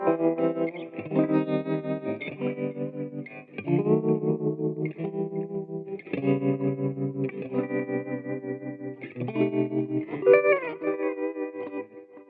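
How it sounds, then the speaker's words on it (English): Electric guitar played through tremolo and spring reverb pedals, chords and melodic notes pulsing steadily with amp-like wobble and lingering reverb trails, loud and close with no talking. "I like trem that sounds like an amp. Verb that sounds like an amp."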